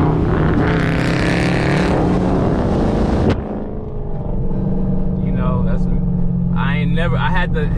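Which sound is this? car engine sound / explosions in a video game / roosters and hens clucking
car engine sound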